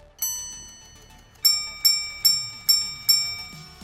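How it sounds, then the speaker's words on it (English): A watch's minute repeater chimes the time at 1 hour 5 minutes: one clear bell tone, a short pause, then five evenly spaced ringing chimes, each decaying, close and crisp. "The so-called jumping hours, along with a chiming minute repeater. It plays different melodies depending on the time."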